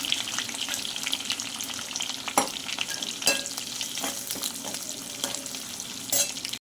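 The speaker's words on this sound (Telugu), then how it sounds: "ఇలా కొంచెము నూనెలో వేయించుకున్నాక తీసుకొని మళ్ళీ పక్కన పెట్టుకోవాలి" Food frying in a little oil in a pan for a fish curry, a constant close sizzle broken by occasional sharp stirring scrapes, with no talk.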